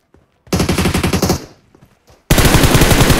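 Rapid automatic gunfire in PUBG Mobile, a loud close burst of shots, a brief pause with scattered faint pops, then another sustained dense volley.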